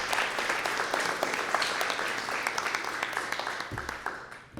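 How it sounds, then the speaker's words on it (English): An audience at a public hearing on arts and cultural education applauds a student team, a sustained mid-level round of clapping with individual claps standing out, fading toward the end with a low bump near the close. "So let's give them a round of applause."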